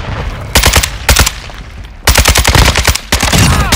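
Rapid automatic gunfire from a Kastov 762 rifle in the video game Call of Duty: Modern Warfare 2 on the Crown Raceway map, loud close bursts of machine-gun fire separated by short pauses, with no talk over it.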